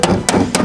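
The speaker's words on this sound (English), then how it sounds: "all we had to do the whole time was hammer it out" A hammer beats on a car hood, three sharp, loud blows at a quick, even pace, heard up close.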